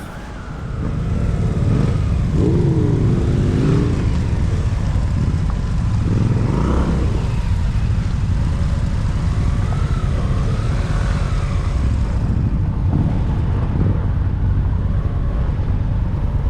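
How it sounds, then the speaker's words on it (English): A steady engine drone with wind rush from riding a motorcycle on mountain highways in North Carolina, the pitch rising and falling as the ride goes on. "I am giving some good folks a motorcycle tour here today."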